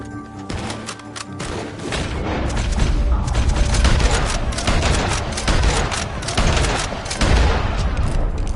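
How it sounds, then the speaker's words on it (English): Heavy gunfire erupts around a barn in Red Dead Redemption 2, rapid overlapping shots and booms in a dense barrage, loud and close, with scattered shouts mixed underneath. "The gunshots are coming from..."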